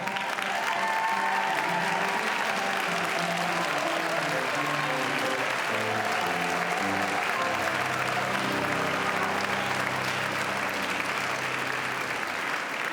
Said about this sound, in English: Let's applaud you too.